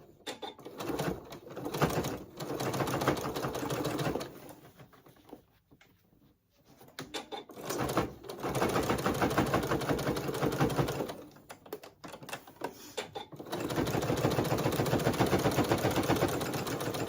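A sewing machine fitted with a jean needle stitches through several thick layers of fabric for a bowl cozy, rapid mechanical chattering bursts broken by short pauses, loud and close with no talk.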